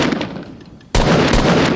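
Rapid automatic gunfire in Fortnite cuts in loud and close after a quieter stretch of in-game noise, then keeps on as a dense burst to the end.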